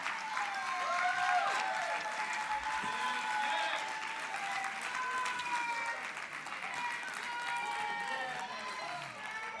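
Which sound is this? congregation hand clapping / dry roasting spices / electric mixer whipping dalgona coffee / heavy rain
congregation hand clapping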